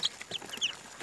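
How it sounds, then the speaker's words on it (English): Baby chicks peeping and clucking at close range while eating breakfast on a small homestead, in short high chirps that come irregularly over about a second with no talk. "Let's see how these baby chicks like their breakfast."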